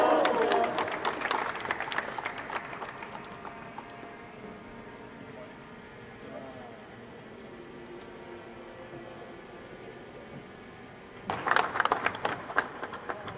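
Audience applause at a football academy ceremony with Indonesia's football association leadership present, a loud burst of clapping at the start that fades out, then a second short burst near the end.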